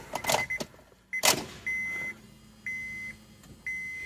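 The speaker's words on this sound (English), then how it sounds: "Here, fuel pump prime" A car's fuel pump priming during a battery service, with door-opening clunks followed by three evenly spaced electronic dashboard chimes, each a steady tone with a low hum beneath.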